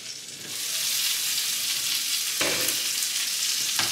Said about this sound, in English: We're going to give this gravy a stir again so it doesn't clump.